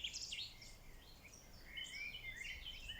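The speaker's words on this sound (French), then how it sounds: "Un oiseau se pose près de vous et vous offre son chant mélodieux." Birds sing in the countryside with high, fluttering, melodic phrases in two bursts, one near and one answering a little farther off, over quiet ambient background.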